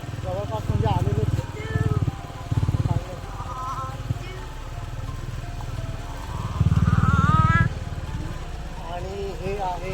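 A motorcycle engine rumbles nearby at the end of a family coastal ride through Konkan, surging in several loud bursts of revving between steadier idling, with people talking over it.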